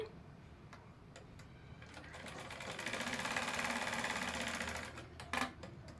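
A sewing machine stitches a lined blouse with a rapid, even mechanical clatter that starts in short bursts and then runs continuously, close and fairly loud, before slowing and stopping.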